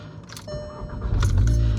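An upgraded turbocharged Volkswagen GTI of about 400 horsepower cranks and fires up, a brief click and whir followed by the engine catching and rising to a strong, close idle rumble.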